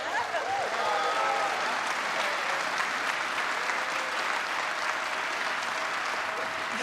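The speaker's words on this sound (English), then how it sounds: "Can we get one more round of applause in the background here?" A conference keynote audience at DrupalCon Lille claps in a sustained round of applause, with some faint voices and whistles mixed into the crowd noise.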